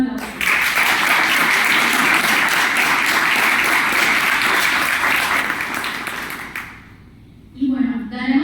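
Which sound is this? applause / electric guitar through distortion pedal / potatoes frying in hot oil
applause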